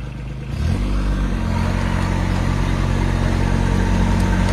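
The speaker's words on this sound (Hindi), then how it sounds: "तो आप बैठ के ट्रैक्टर चला रहे हैं।" A Swaraj 855 tractor engine kicks from a lower idle into a loud, steady diesel throb, running close and continuous with no talk.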